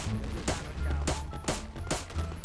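Repeated gunshots in a video game, with sharp bursts at roughly half-second intervals over steady background noise, and players' voices faintly underneath.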